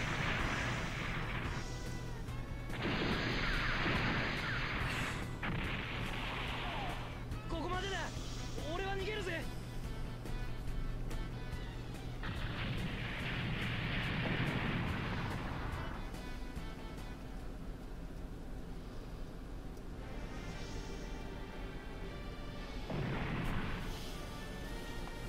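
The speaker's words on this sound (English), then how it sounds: "dang, I actually used the gun" Gunfire and explosive attack effects from the Super Robot Wars Alpha Gaiden robot battle game, loud bursts of blasts and booms repeating over a steady game music bed, with a voice speaking intermittently.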